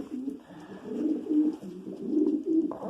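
Low, throaty cooing from a pigeon, rolling in repeated soft phrases that swell and fade, close by with faint background noise.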